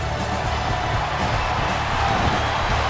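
A dense, steady roar of an arena crowd cheering in the wrestling video game SmackDown vs Raw 2007 on Xbox 360, loud and continuous throughout with no clear breaks.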